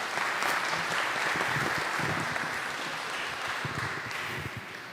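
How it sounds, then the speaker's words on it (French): A congregation at a First Communion Mass applauds, giving a steady, dense burst of clapping that carries on for the whole stretch and eases off slightly at the end. "On l'applaudit."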